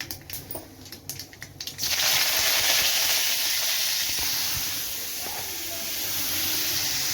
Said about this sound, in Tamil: வெங்காயம், தக்காளி, பச்சை மிளகாய், கருவேப்பிலை போட்டாச்சுங்க